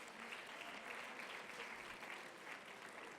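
An audience at a youth convention session applauds the panelists with a continuous even wash of clapping that sounds faint and distant, heard on its own without talk.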